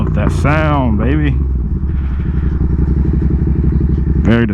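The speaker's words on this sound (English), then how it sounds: "I don't think there's another exhaust that sounds like that" Yamaha FZ07 motorcycle exhaust running close by with a steady, pulsing low rumble throughout, with brief vocal-like tonal sounds at the start and end.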